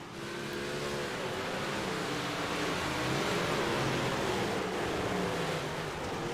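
A Big Block Modified race car running on the dirt track at Weedsport Speedway, a loud continuous roaring engine heard from the stands without break, with a faint whoosh of wind mixed in.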